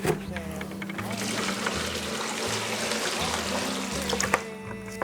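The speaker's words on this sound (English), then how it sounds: "Next, you're gonna get you some water, and we wanna fill this thing up." Water running and pouring into a pot to soak a country ham, a steady broadband splashing rush that continues for several seconds over a low steady hum, with brief clatter near the end.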